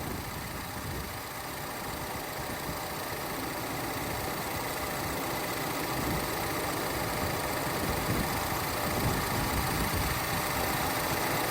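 A Ford Escape engine runs steadily at idle while the AC compressor draws in refrigerant, a constant mechanical hum and hiss with no pauses.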